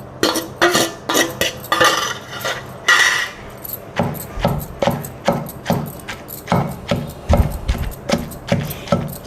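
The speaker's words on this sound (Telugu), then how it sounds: "ఇప్పుడు నేను ఈ దొండకాయ ముక్కలను కూడా వేసి రోట్లో నూరుకుంటున్నాను." Ivy gourd pieces are ground in a stone mortar, producing a steady series of knocking, scraping strokes about twice a second, close and moderately loud with no talk.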